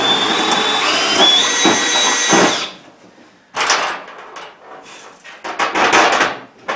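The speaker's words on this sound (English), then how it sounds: "we're going to drill these last couple of holes" A power drill drilling holes for bolts whines loudly for a few seconds with a rising pitch, then stops, followed by clattering knocks and scraping.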